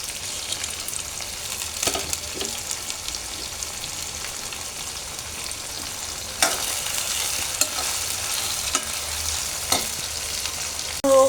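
Liver sizzles steadily in a pan with whole spices, black pepper, cardamom, bay leaf and cinnamon, while a spoon stirs and scrapes at intervals. A few sharper clinks punctuate the continuous close frying hiss.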